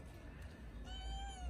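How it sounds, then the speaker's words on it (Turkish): A neighbourhood street cat meows, one drawn-out mew near the end over low background rumble, faint and moderately close. "Ve anne kedicik su istedi benden."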